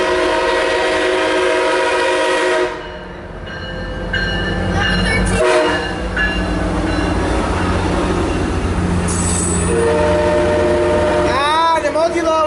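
A MARC commuter train with multi-level cars rumbles past close by, loud and continuous. Its high-pitched horn sounds near the start and sounds again in bends toward the end, and voices talk over the noise.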